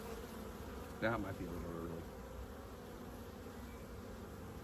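Honeybees drone steadily throughout a big open hive during an inspection, a continuous low hum, while a person speaks briefly near the start.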